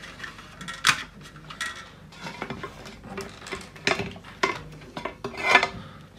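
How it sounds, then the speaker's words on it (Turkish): The cover of an outdoor LED floodlight is closed during a repair, giving several sharp plastic and metal clicks and clacks, with a few louder snaps spaced irregularly over quieter handling rattles. "Şimdi kapağını kapatalım."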